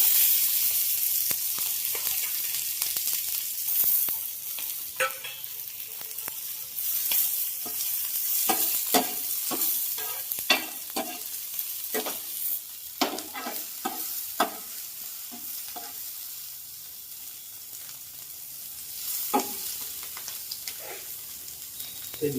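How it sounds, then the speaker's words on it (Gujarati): Paneer, onion and capsicum fry in oil in a pan, a soft steady sizzle broken by repeated scraping and clinking strokes of a spoon stirring, close and without talk. "અને પનીર અને ડુંગળી કેપ્સિકમને થોડાક શેકી નાખશું."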